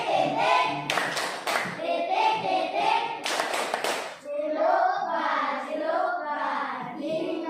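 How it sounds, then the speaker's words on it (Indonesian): A group of people claps a rhythmic clap game together in loud, sharp bursts that fall in a set pattern, with children's voices chanting along between and after the claps. "mari kita sama-sama tepuk titik dulu"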